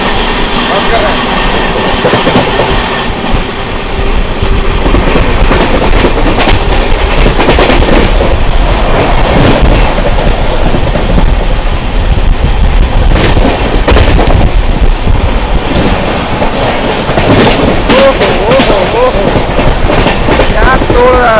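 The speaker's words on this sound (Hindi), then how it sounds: "स्किप कर रही है बनकी धाम और यहाँ पे मेमो ट्रेन को ओवरटेक कर रही है भाई बनकी धाम में।" Sampoorna Kranti Express (12394) rushing through Banki Dham station while overtaking a MEMU train, with a loud continuous roar, heavy rattling, and rapid clickety-clack over rail joints that stays close throughout.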